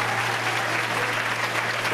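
Steady audience applause at a fifth grade graduation award ceremony, dense continuous clapping from a crowd throughout, fairly loud with no pauses.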